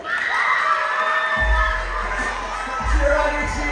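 Children at a youth camp cheer and shout loudly for their team, a dense, continuous crowd roar with rising whoops and thumping bangs underneath.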